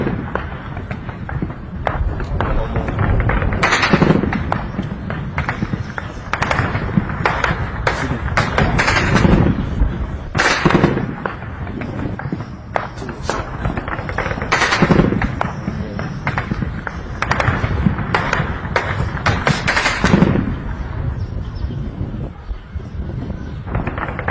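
Gunshots in Abuja, a continuous series of sharp cracks and thuds scattered irregularly through the whole stretch, some loud and close and others more distant, over wind buffeting and faint voices in the background.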